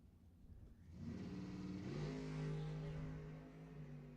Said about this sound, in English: Mopar powered, 509 cubic inches